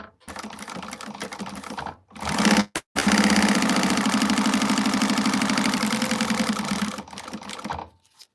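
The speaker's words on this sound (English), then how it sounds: "we're going to go ahead and stitch this on at the seam that she gives" A home sewing machine stitches a seam for an Evanna by Hallel pattern: steady rapid mechanical whirring runs for several seconds after a short start and brief pause, loud and close, then stops.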